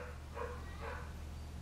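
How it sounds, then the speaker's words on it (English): The neighbor's dogs bark in the distance, two faint barks about half a second apart over a steady low background hum. "And there goes my neighbor's dogs"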